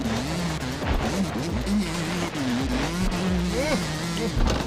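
A race car accelerates hard around a track during a road race, its engine droning and rising in pitch as it revs through the gears, loud and continuous with some background noise.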